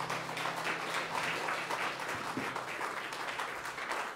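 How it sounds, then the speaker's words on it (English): A church congregation claps in praise during a Sunday service, a dense, steady burst of many hands applauding together for about four seconds, fairly close and without talk. "Give the Lord a hand clap of praise."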